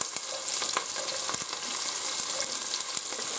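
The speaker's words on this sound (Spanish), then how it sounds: "Ya está caliente y ahora echamos la cebolla. Y también el ajo." Onion and garlic fry in hot oil with a dense, steady sizzle and occasional crisp pops and light stirring clicks, close and continuous with no voices.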